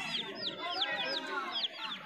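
Hens clucking at Galiff Street bird market in Kolkata, with a run of quick, fairly close clucks and squawks over a soft murmur of market background.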